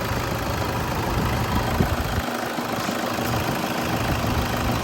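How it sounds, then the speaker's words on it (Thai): A 2006 Toyota Vigo 2.5 pickup engine idling steadily, a continuous close mechanical rumble with an even diesel-like knock and no voices over it. "เสียงเครื่องดีครับ"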